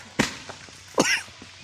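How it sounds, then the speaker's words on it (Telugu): Two sharp, close coughs a little under a second apart, the second rougher and more voiced, with quiet background between them. "దగ్గు వస్తుంది బాగా"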